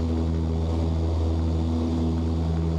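Martin Mars flying boat's propeller engines at climb power, heard from the cockpit as a loud, steady droning hum with strong tonal harmonics, unbroken throughout, with a brief click near the end.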